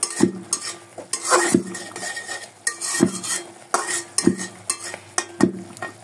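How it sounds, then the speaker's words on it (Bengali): Spice paste of ground cumin, garlic, ginger, green chili and a little chili powder stirred in hot oil, with regular scraping strokes of a metal spoon against the pan about once a second over a soft sizzle. "এই মশলা থেকে যতক্ষণ না তেল বেরোচ্ছে ততক্ষণ কিন্তু মশলাটা ভালো করে কষাতে হবে"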